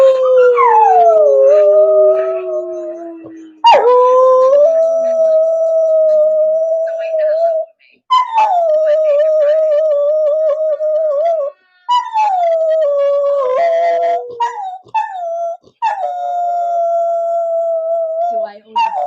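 A pet dog howls in long, wavering tones again and again across the stretch, each howl sliding down and holding, loud and close, with short yips and whimpers between them.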